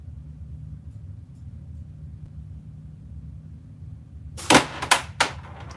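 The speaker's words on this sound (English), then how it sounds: "See if it gets me a better smack this time. Shoot at the gray again." A gun is fired at the gray target of a horizontal knockdown catch box. A low steady rumble runs for several seconds before a sharp close crack, followed by two more snappy hits or clanks in quick succession.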